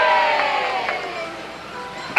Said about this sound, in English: And the crowd cheered for Mac and Mabel.